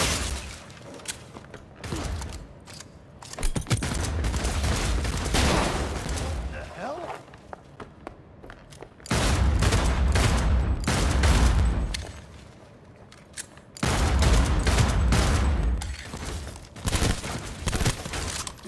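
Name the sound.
gunfire in the video game Cyberpunk 2077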